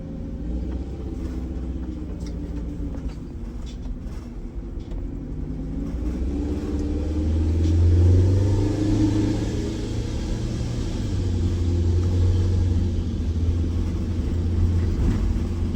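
A Prevost bus engine, in for a brake inspection, rumbles steadily at close range, the deep drone swelling as it revs partway through and then settling back to a heavy idle.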